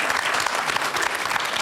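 Studio audience applause at a televised panel discussion, a dense, even burst of clapping from a large crowd, loud and sustained without speech.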